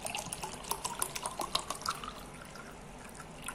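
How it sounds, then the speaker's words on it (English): Clean water being poured from a container into a drinking glass, a light splashing trickle for about two seconds that then fades, with no talking. "Now I am pouring a water in it."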